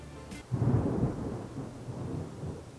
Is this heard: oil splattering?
no